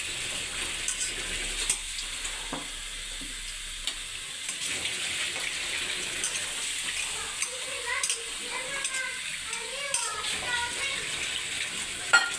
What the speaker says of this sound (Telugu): వీటిని ఇలా శుభ్రంగా కడిగేసుకుందాము.